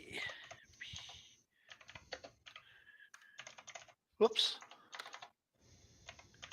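Quiet computer keyboard typing comes in quick clusters of clicky keystrokes with short pauses between them, close and faint, while a voice briefly speaks.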